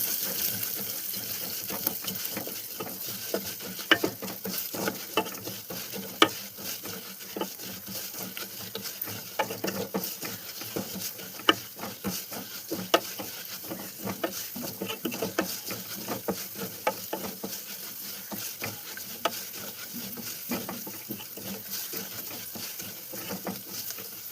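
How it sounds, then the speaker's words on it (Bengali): Moong dal frying with ginger and garlic in a pan, stirred continuously with soft scraping and a quiet crackling patter, close and faint. "ডালটা ভালো করে ভাজা হয়ে গেছে।"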